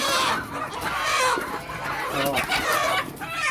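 Several native chickens cluck and squawk continuously up close, a busy overlapping chatter of hens with a brief crow-like call among them.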